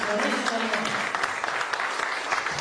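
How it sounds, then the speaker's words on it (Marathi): Applause from an audience, a dense, steady patter of many hands clapping, with a voice audible underneath at the start. "त्यांच्यासाठी जोरदार टाळ्या"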